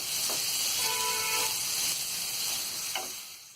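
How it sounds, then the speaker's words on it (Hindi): Chopped onions fry in a pan for a restaurant-style dal makhani, giving off a steady, even sizzling hiss with a couple of faint utensil taps, close by and without speech. "ये कटी हुई प्याज हम इसमें डाल देंगे। और इसे हम हल्का गोल्डन ब्राउन होने तक फ्राई करेंगे।"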